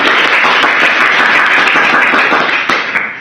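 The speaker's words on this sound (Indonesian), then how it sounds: "Tepuk tangannya dong!" Dense, sustained applause from an audience at a talent-show style event, loud and continuous for the whole stretch and easing slightly near the end.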